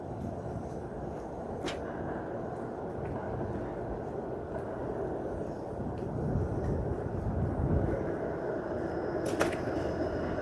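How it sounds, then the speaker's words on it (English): A 506 Carlton streetcar rumbles past at moderate distance in downtown Toronto after midnight, a broad low roar that slowly swells and fades, with faint metallic squeals and city noise around it. "And there goes a 506 Carlton streetcar."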